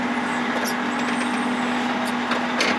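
Work truck being driven, a steady engine drone with a constant tonal hum and occasional brief hissing bursts from the brakes, fairly close and continuous.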